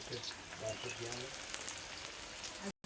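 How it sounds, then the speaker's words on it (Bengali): Potato pieces frying in oil for a home-cooked chicken biryani give off a steady, dense sizzle throughout, with a faint voice underneath and a brief dropout near the end. "আলু ভাজা চালু হয়ে গেছে"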